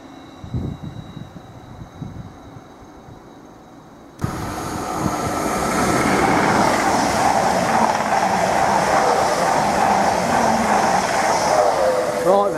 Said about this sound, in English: that 745009 has just raced past en route to London Liverpool Street